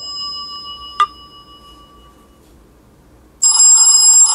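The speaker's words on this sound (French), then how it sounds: "Alors, phone ringtone. Ici. Avec le son à fond." Elephone P8000 smartphone playing its ringtone at full volume: a faint tone and a sharp click, then a loud, bright, buzzy ring starting abruptly near the end.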